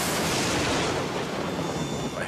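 Lightning striking a tall building tower, a massive, loud bang with broad crackling roar that fills the clip, close and overpowering, with a faint voice underneath.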